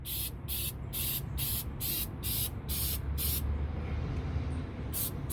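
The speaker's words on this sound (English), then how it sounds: "when you spray it on it, you can see like it bubbles" Rust cleaner sprayed onto a rusty semi truck chassis: a rapid series of about eight short hissing bursts from a spray nozzle, then a pause and one or two more, over low steady background rumble.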